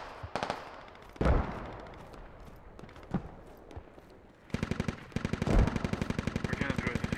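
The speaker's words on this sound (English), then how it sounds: "I hear shots." Gunfire in a military simulation video game: several sharp single shots ring out, then a long sustained burst of rapid automatic fire in a steady rhythm that fills the last few seconds.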